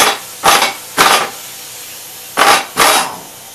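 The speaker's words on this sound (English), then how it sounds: "I'm going to attempt to take the blade nut off first." A tool works the blade nut loose on the spindle of a 1987 Gravely 12G mower in five short, loud, close bursts: two near the start, one around the one-second mark and two later, with quiet gaps between.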